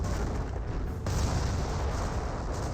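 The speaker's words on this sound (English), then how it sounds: "Calliope barrage running on in" Dense rolling barrage of Calliope rocket artillery in the Company of Heroes battle game, a continuous loud roar of overlapping blasts and booms with no pauses, heard alone with no voices.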